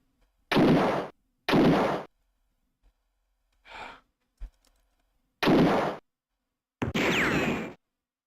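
Gunfire in the survival horror game Alone in the Dark 2: several loud, isolated shots spaced apart with silence between them, plus a faint short thump and a final blast with a ringing tail.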